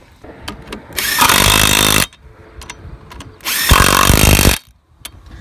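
A Makita power tool tightening lug nuts on a Blazer wheel makes two loud impact bursts about a second each, separated by a short pause, with faint clicks and handling noise around them.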